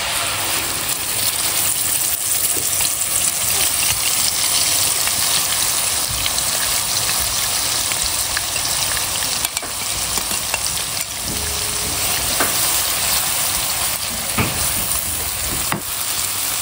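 Seasoning paste for grilled fish stir-fried in a hot pan gives a steady, loud, close sizzle with faint stirring scrapes, unbroken for the whole stretch.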